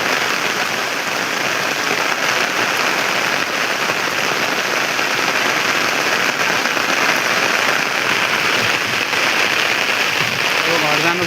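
A hard downpour drums steadily on nearby surfaces, loud and unbroken, with scattered sharper drop impacts. Voices are heard faintly through the rain.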